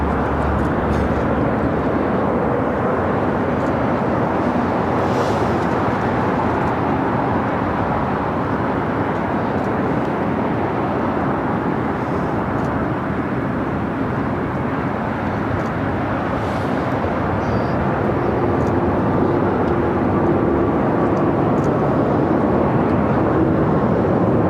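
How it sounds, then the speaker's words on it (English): A Virgin Atlantic Airbus A350-1000 takes off at Los Angeles airport, a loud, constant broadband jet roar sustained without pause throughout. "up next, Virgin Atlantic Flight 8 heading to London Heathrow at A350-1000"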